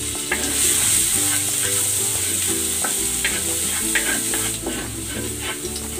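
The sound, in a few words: garlic being sautéed in cooking oil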